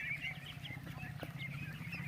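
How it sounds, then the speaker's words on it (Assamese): A group of one-month-old ducklings peep and chatter in quick, overlapping calls, faint and at a short distance, over a low steady background hum. "এইবিলাক মোৰ হাঁহৰ পোৱালি"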